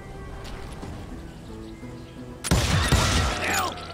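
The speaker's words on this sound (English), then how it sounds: "I heard the shots and I knew I had to move fast." Gunfire from the Wild West shooter Call of Juarez: Gunslinger bursts in abruptly after a stretch of quiet ambience, with a few loud, close shots and their echoes.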